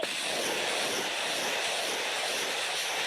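A Russian attack helicopter roars during a military live-fire drill, a steady, dense, loud engine and rotor wash that holds evenly throughout, with no voices.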